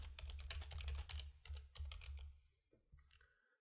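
Fingers type quickly on a computer keyboard at close range, a dense run of clicking keystrokes that slows into a few scattered taps and then stops.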